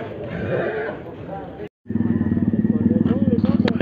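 Horses, donkeys and mules at an open-air animal market in San Antonino Castillo Velasco, Oaxaca: a loud whinny rises early, then an engine-like pulsing rumble follows, with people talking nearby.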